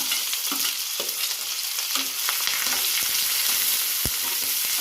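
Chopped onion, curry leaves and green chilli fry in a pan for a bitter gourd curry, giving a steady close sizzle broken by a few scrapes and stirs of a spoon, with no talking.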